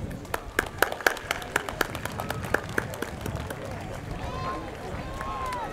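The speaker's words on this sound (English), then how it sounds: "Round of applause, please." A crowd at an Armed Forces Day parade in Torrance, California, breaks into scattered clapping, sharp irregular claps that thin out into murmuring and distant background noise.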